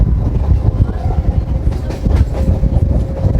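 A passenger train runs between Krishnanagar and Ranaghat, heard from on board as a loud continuous rumble with rhythmic clickety-clack of wheels over rail joints and a faint whine.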